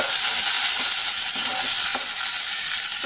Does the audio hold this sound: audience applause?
no